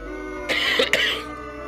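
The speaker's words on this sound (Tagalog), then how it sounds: "So hanggang ngayon, inuubo pa rin tayo." A person coughs and clears their throat in a short burst of two or three harsh bursts, close to the mic, with steady low background hum and no talking.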